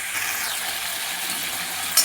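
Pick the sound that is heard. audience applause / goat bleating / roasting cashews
roasting cashews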